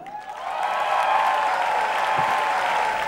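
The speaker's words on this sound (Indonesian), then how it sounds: "Tepuk tangan buat Rian" Audience applause for a stand-up comedian at a comedy competition grand final, a short burst of crowd clapping that swells quickly and holds steady, with a lingering tonal hum underneath.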